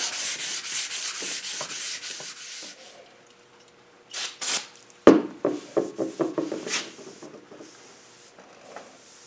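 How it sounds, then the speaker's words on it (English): Old rust being scrubbed off metal on a V12 rat rod, rhythmic rough rubbing strokes close by, a pause, a sharp metallic knock, then more uneven scraping and rubbing that fades out, with no talk. "Clean some of that old rust off there."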